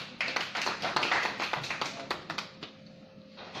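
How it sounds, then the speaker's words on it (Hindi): A small group in a meeting room claps for two colleagues, a dense patter of hand claps that thins into a few scattered claps before fading out. "तालियां इन दोनों के लिए।"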